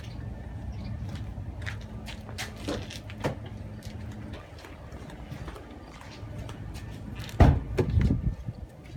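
People climb into a car, with soft handling noises and scattered clicks followed by a louder thud near the end as a door shuts close by.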